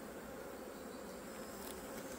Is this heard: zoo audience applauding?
no